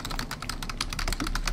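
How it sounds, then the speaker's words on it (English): Fingers tap quickly on a computer keyboard, a close, continuous run of crisp irregular clicks with no voices. "But I can already hear you typing."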